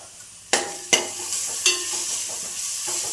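Crushed ginger and garlic hit hot oil in a pan for a beef dish, producing a continuous sizzle marked by a few sharp stirring clatters near the start.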